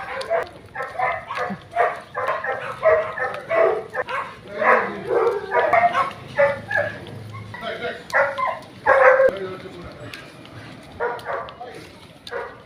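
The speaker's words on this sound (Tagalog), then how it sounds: "Maingay yung aso." A dog barks repeatedly at fairly close range, its barks running in quick bursts throughout while people talk nearby outdoors.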